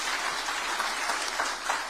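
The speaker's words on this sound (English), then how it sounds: "Another round of applause" Sustained audience applause at a formal Kenyan government address, dense even clapping throughout with no voices over it.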